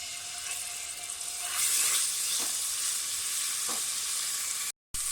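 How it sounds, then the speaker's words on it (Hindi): Steady oily sizzling of garlic-ginger paste frying in hot oil in a cooking pot, with a few brief stirring scrapes, then a sudden cut near the end. "पतीली हमारी गर्म हो गई है, ऑयल डाल दें। लहसुन अदरक का पेस्ट डाल दें।"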